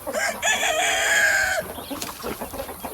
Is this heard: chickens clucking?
yes